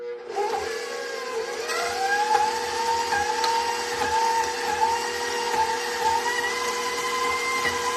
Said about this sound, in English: now we're gonna let the mixer do its magic